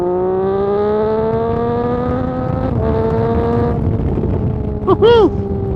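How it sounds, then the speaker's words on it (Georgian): A sport motorcycle accelerates on the road, its engine whine climbing steadily in pitch and staying loud and close, then easing before a brief sharp rev near the end. "იმენა ვაბოდებ ამ ბაიკის აჩქარებაზე რა"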